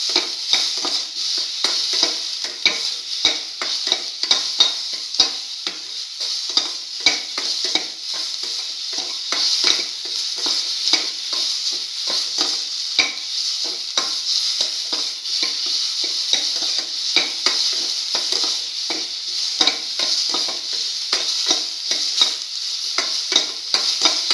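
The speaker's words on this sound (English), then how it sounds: "Keep on sauteing." Egg and tomato stir fry sautéing in a pan, with a steady bright sizzle and frequent scraping stirs of a spatula throughout, close and continuous with no talking.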